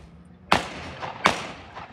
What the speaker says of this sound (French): le mec lui-même va essayer son fusil